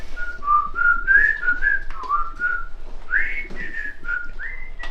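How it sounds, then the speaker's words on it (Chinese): A single person whistles a lively melody up close, with clear sliding and bouncing notes in quick phrases and no talking. "怎么吹口哨呢"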